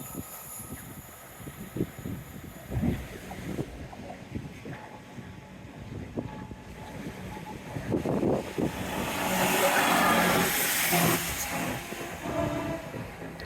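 Train passing along a rainy seawall at Teignmouth, a broad rumbling roar that builds and swells near the middle and end, mixed with heavy gusting wind noise, no voices.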